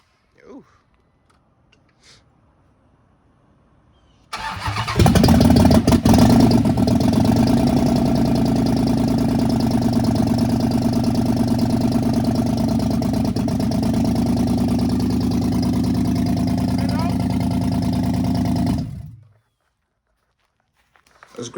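A wrecked 2015 Dodge Charger Pursuit's 5.7 V8 runs and misfires, a loud, steady engine note holding for about fourteen seconds before cutting off abruptly, with a few faint sounds before it starts.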